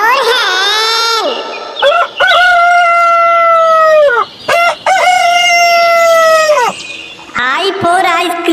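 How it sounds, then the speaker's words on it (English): A rooster crows loudly and close in long, drawn-out calls, with a few short clucks in between, repeated several times without pause. "H for hen."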